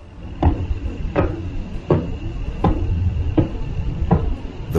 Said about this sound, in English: this star, which is called Tariq, sounds just like the sound of the door being knocked by someone